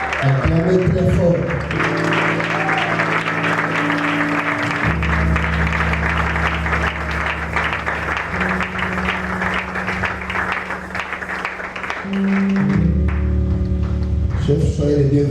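A Congolese revival church congregation claps loudly and steadily for several seconds, the dense applause layered over held organ or keyboard chords that shift partway through and swell again near the end.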